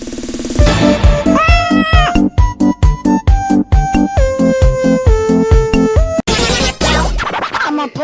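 A cat's meows set into a dense, loud music track, the rising tonal calls repeating across several seconds over a heavy rhythmic beat.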